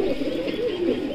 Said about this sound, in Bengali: এটা ইংলিশ টাম্পিটার